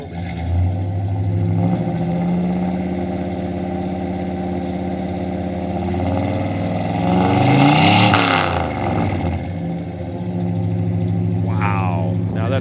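A 1965 Pontiac Catalina 2+2 V8 running on 110-octane race fuel idles with a loud, deep rumble, then revs up in a swelling roar around the middle before settling back to idle, with brief voices near the end.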